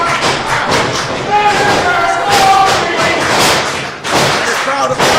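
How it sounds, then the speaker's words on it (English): Crowd noise at a live wrestling event, a steady roar of cheering and shouting from the arena audience, with heavy thuds from the ring cutting through and commentary voices layered on top. "The crowd is already getting started on Liam Black."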